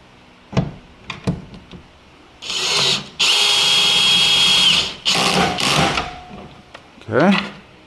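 A power drill drives screws back into accessory mounts on a Toyota Tacoma pickup, with a few short clicks and taps, then two sustained whirring runs and a shorter burst, loud and close, with a brief squeak at the end.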